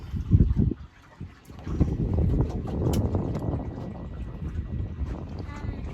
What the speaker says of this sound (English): the wind's blowing a little bit out here, so it ain't too bad